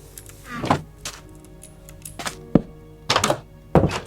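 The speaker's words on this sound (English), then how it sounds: "We need to take out the door." Wooden door broken and removed in the Minecraft video game, heard as a series of sharp, hollow wooden knocks and thunks in irregular bursts, alone and fairly loud.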